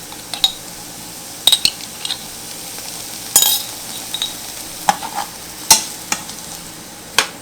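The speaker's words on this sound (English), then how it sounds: "we're just going to cook it till the onions are tender" Onions and garlic cook in a hot pan, a low steady sizzle broken by sharp clinks and scrapes of a utensil stirring against the pan, with no talking.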